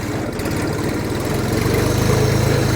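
Jinma 3244 mini tractor engine running in first low gear, a loud, close, steady diesel-like chugging with even rapid pulses and no voices.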